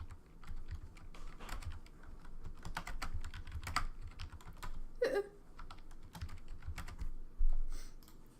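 Steady typing on a computer keyboard while entering a server name, with irregular bursts of close key clicks and a few louder taps, no talking.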